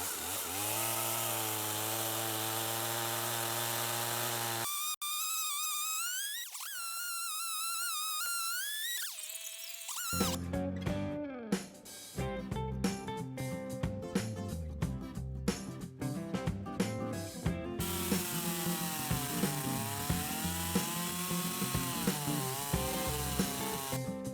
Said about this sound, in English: This chainsaw seemed to be working a lot better than the other one.